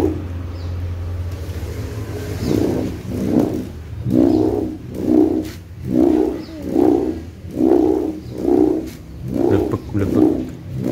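Kite hummer (sendaren) made of gift ribbon on a Pegon Ludoyo kite, buzzing in steady rising and falling swells about once a second, each gust a low droning hum over a faint background rumble.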